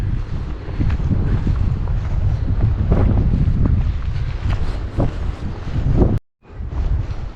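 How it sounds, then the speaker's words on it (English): Wind gusts steadily across an outdoor cemetery, a continuous loud roar buffeting the microphone, dropping out briefly near the end before resuming. "Definitely windy."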